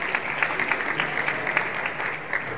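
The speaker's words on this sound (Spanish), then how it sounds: "Un aplauso." An audience at an awards ceremony applauds steadily, a dense patter of clapping hands from a moderately near crowd lasting the whole moment.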